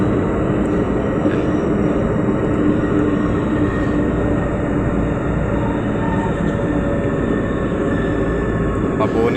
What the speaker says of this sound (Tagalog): Dito tayo sa train ngayon.